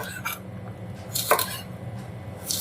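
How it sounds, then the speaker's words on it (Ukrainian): A knife cuts hunting sausages into pieces for a salad, producing a few sharp clicks and taps against a board with short gaps between them, and no talking. "І нарізаємо ось такими трішечки більшими"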